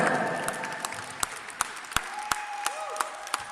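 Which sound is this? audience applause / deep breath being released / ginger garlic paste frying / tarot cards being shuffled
audience applause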